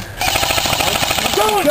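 Rapid bursts of airsoft gunfire rattle close by in a quick, steady staccato during an outdoor airsoft skirmish, with a shout heard at the start.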